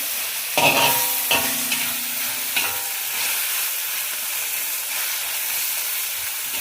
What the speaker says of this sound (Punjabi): ਆਪਾਂ ਸ਼ਿਮਲਾ ਮਿਰਚ ਤੇ ਪਿਆਜ਼ਾਂ ਨੂੰ ਪਾ ਕੇ ਥੋੜੀ ਦੇਰ ਭੁੰਨ ਲਿਆ ਜੀ